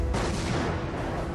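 Battleship guns fire in a naval battle between the Bismarck and HMS Hood, heard as one heavy booming blast that fills the short stretch with dense rumbling, loud and close.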